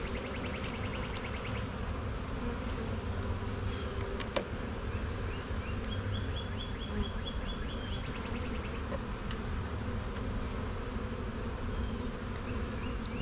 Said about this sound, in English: Try not to smash the bees